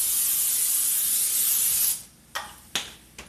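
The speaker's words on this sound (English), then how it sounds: "So I'm going to spray it with a little bit of Pam." Pam cooking spray hisses into an old blue-fleck roasting pan in one continuous close spray for about two seconds, followed by three short sharp spritzes.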